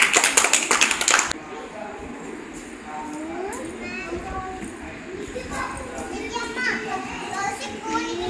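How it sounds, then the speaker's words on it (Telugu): Schoolchildren in a classroom number activity clap their hands loudly together in a brief, dense burst, after which their chatter and voices carry on. "క్లాప్స్ కొట్టి గట్టిగా కొట్టాలి."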